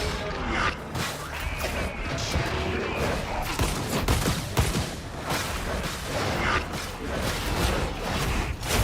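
Video game gunfire as a dense, chaotic clatter of overlapping shots, thuds and mechanical clanks, continuous and busy but fairly quiet in the mix.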